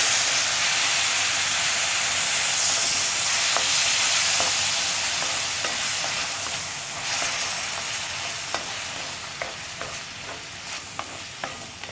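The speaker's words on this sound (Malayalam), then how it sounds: "കുറച്ച് ചൂടുവെള്ളമാണ് ആഡ് ചെയ്യുന്നത്." Steady loud sizzling and hissing as hot water is added to okra masala in a hot pan, with scattered crackles and pops that grow sparser as the sizzle eases.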